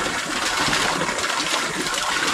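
Water gushing from a pipe and overflowing a full container, a loud, steady, broadband rush that stays constant throughout.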